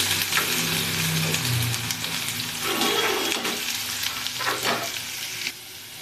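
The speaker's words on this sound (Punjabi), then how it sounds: "ਇਧਰ ਆਪਣਾ ਅਦਰਕ ਔਰ ਲਸਣ ਹਲਕਾ ਜਿਹਾ ਫਰਾਈ ਹੋ ਗਿਆ ਏ" Ginger and garlic frying lightly in oil for a whole masoor dal, a steady close sizzle with occasional stirring scrapes, continuous and fairly loud with no talking.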